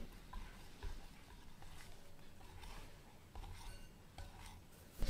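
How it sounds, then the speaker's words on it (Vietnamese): A whisk or spatula stirring sponge cake batter in one direction, a faint, steady scraping and swishing with soft rhythmic bumps against the bowl, heard alone without talk. "Tiếp tục trộn một chiều."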